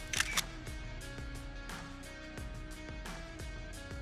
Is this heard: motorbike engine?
no